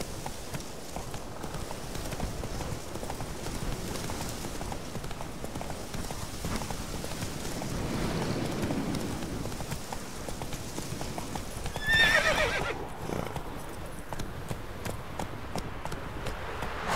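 Hoofbeats of a horse galloping steadily in The Witcher video game, a continuous clip-clop rhythm close by with a whinny partway through, and a faint voice briefly heard.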